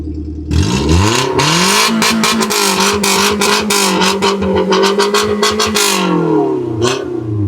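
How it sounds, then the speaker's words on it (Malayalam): A custom-built Suzuki Zen's exhaust with the valvetronic open barks loudly and close by, the engine revved repeatedly in rising and falling blips with sharp pops between bursts, then settling back to idle. "ഇതാണ് ഇതിന്റെ എക്സോസ്റ്റ് നോട്ട് വരുന്നത്"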